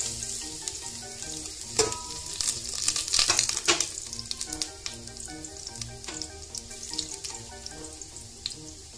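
Garlic and ginger sizzle steadily in a pan for tinola, a loud broadband frying hiss with scattered spatters and a few stirring scrapes, no voices.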